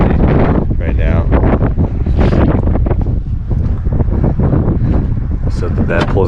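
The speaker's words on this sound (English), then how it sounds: "It's still pretty windy right now." Strong wind buffets the microphone at a beach campsite beside a converted Chevy Astro van, a loud, constant rumbling gust noise with a voice partly audible through it.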